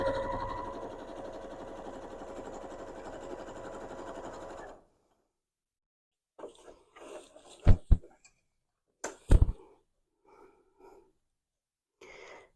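A sewing machine stitches straight quilting lines in a continuous close whir for several seconds, then falls silent, followed by scattered soft handling noises and a few sharp knocks.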